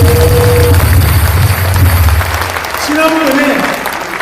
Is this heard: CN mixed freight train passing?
no